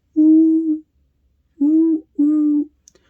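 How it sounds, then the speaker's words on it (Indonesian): Three deep, hollow owl hoots, each about half a second long, sounding clear and close with short silent gaps between them. "ternyata itu adalah suara dari burung hantu"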